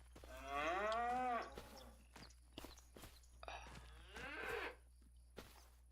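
Cows moo in the Hof Bergmann farming video game: two long, loud, close calls with soft footsteps and small thuds in between.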